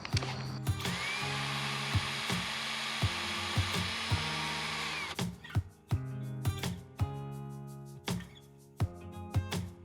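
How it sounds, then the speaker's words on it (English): A pilot hole drilled into guitar body wood: a sustained whirring bore for about five seconds, close and fairly loud, followed by scattered knocks and handling clatter of the tool and workpiece. "I'm going to drill a pilot hole"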